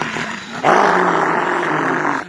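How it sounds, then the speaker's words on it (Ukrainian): A dog growls in one low, continuous rumble that swells after a brief start and holds steady, loud and close. "Ти опасна собака, опасна."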